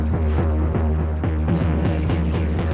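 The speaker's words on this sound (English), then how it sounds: "You can use also the Minifreak as a drum machine for some rhythmic sounds" Arturia MiniFreak synthesizer played as a drum machine, a dense looping rhythmic pattern of thumping low hits and buzzy pulses, loud and steady with no voices.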